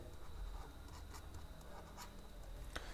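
A pen scratches across paper while a math solution is written out for a Class 8 Urdu-medium lesson on circle area, making soft, continuous scratchy strokes with brief sharper ticks, close and quiet, with no talking.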